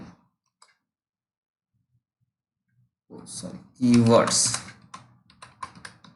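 Keys clack on a computer keyboard in a short burst of taps after a near-silent pause, close and fairly crisp, with a voice speaking alongside.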